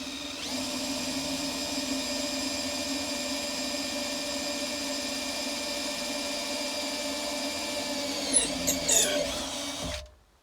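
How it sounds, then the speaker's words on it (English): A centre drill held in a chuck bores into iron, giving a steady whining hum for about eight seconds before a brief scraping burst and a stop. "I've put a centre drill in my chuck"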